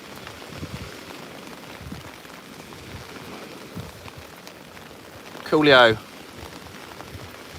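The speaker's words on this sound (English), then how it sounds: "tonight it's absolutely pissing it down" Heavy night rain on the shore at Hayling Island, a constant soft patter and hiss at low level, with someone speaking briefly over it partway through.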